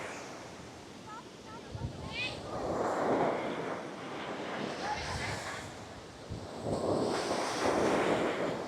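Heavy ocean waves at Puka Beach, Boracay, in bad weather crash and surge in repeated swells while wind buffets the microphone; the roar rises and falls over several seconds.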